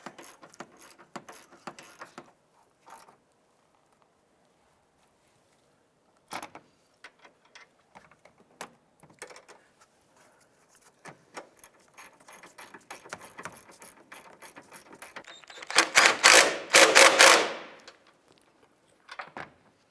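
Metal nuts on the upper strut mount of a 2006-2011 Honda Civic being snugged with a ratchet, sparse clicks and light mechanical taps building to a louder, dense burst of rapid ratcheting near the end.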